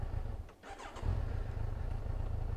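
An inline-four superbike engine idles close by, a steady low throb that dips briefly early on and then settles back to an even, unbroken idle.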